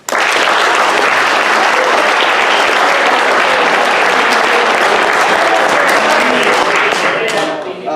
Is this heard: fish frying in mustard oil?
no